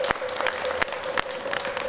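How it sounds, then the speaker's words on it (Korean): Many hands clap at a Korean Buddhist ceremony for the inauguration of a Taego Order head, a dense, close patter with a few sharper claps standing out throughout. "박수 부탁드리겠습니다"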